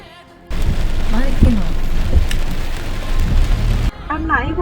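Rain falling outdoors in Bayanuul, Dornod, Mongolia, a loud, steady patter that starts abruptly and stops just as suddenly, with a voice audible at the edges.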